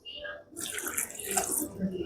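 A little water is splashed into chakli masala of coriander leaves, lemon, chilli powder and salt before grinding, a short close pour after a brief pause, with faint speech around it.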